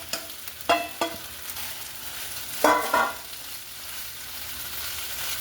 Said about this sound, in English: now I'm putting everything I've already cooked, vegetables and everything, back over in the pan